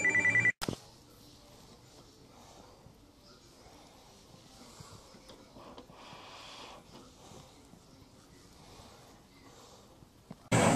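A telephone rings with an incoming call from a wife: a loud burst at the start, a low steady room hum in between, and the ringing again right at the end.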